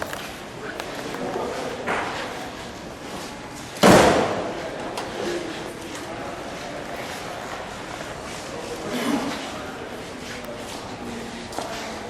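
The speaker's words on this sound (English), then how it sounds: "Let's shut the door." A single heavy car door slam of a 1992 Ford Mustang thuds sharply amid outdoor background noise, with a softer thump later on; no one speaks.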